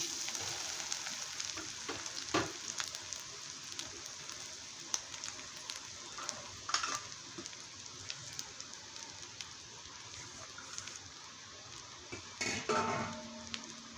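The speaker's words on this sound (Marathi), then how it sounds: "तूप आपलं गरम झालेलं आहे आता त्यामध्ये आपण हे किसलेलं खोबरं आहे ते टाकून घेऊया" Grated coconut frying in a couple of spoonfuls of hot ghee gives a soft, steady sizzling hiss, with occasional sharper scrapes and clinks of a utensil against the pan.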